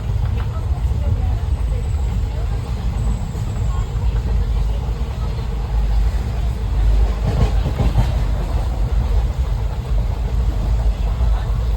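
The Tutari Express passenger train to Mumbai rumbles along steadily, a loud continuous roar with faint rhythmic clatter from the wheels and no clear talking.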